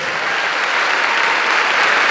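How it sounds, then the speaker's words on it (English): An audience applauds children and students from Gaston County Schools after a song, a steady dense wash of many hands clapping at close range with no voices over it. "Let's give these children a round of applause, and all of our students representing Gaston County Schools."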